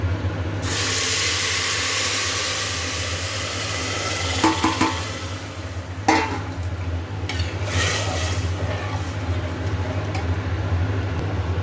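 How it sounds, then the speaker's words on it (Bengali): Water poured into a pot of pulao rice frying on the stove, a steady hissing, splashing rush close by, with brief louder bursts midway, no one talking. "চলুন আগে দিয়ে দিই জলটা ভালো মতো।"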